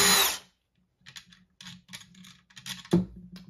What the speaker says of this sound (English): Going to use a drill,